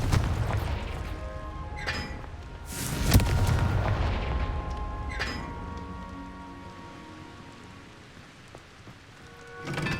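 A Confringo fire spell explodes in the game Hogwarts Legacy, a deep boom standing out against a continuous rumbling, rain-like background, followed by fainter crackling bursts and a rising swell at the end.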